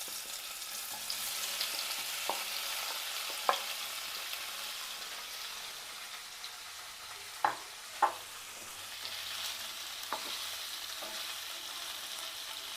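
Paneer pieces fry in hot oil in a pan, a soft, continuous sizzle held at a low level, broken by a few sharp clicks and taps from a utensil.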